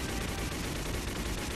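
Rapid gunfire in the Project Sylpheed space-combat video game, a dense continuous stream of shots filling a short burst at moderate level with no talk over it.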